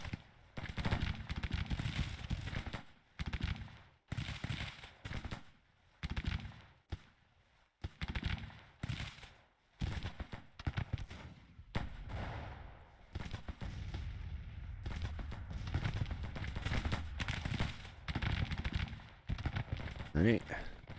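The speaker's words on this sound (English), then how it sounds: "Just bombard their position" Artillery bombardment of an enemy position in the Civil War strategy game Grand Tactician: The Civil War, with repeated loud booming blasts in bursts through the clip and a voice talking between them.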